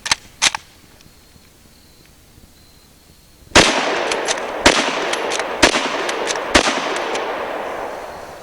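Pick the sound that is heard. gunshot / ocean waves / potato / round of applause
gunshot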